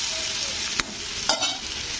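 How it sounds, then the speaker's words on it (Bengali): Vegetables stir-fried in a pan with salt sizzle steadily and close by, broken by two sharp spatula scrapes and stirs. "তো লবণটা দিয়ে একটু নাড়াচাড়া করে দেবো।"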